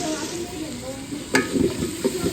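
Ginger and garlic sizzle in a hot pan, a continuous frying hiss with a few sharp clatters of stirring and faint background voices.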